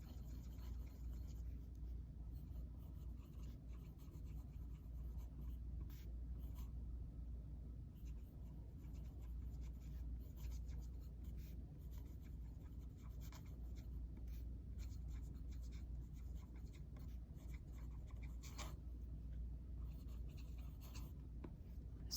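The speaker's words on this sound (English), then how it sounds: "As you can hear, it writes very smoothly when you're holding it at the right angle." A vintage J. Harris & Co. University fountain pen scratches softly across paper in faint, close strokes with small irregular ticks, over a low constant rumble of background noise.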